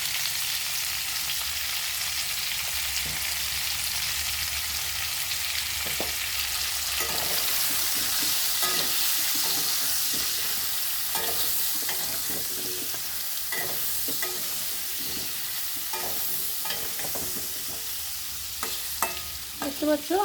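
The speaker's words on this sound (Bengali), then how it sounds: "দেখতে পাচ্ছ আলুটাকে এরকম ভেজে নেবে লাল লাল করে।" Potatoes seasoned with salt and turmeric fry in a pan, a constant sizzling hiss broken by repeated scraping stirs that grow busier toward the end, with no talking.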